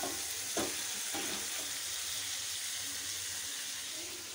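Eggplant frying in a pan for a Tamil-style kathirikai podi curry, a faint, even hiss of sizzling throughout with a couple of soft stirring knocks near the start.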